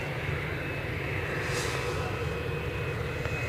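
EasyJet airliners pushing back at Edinburgh airport, a steady low jet engine hum and whine heard from a distance, constant and unbroken without talk.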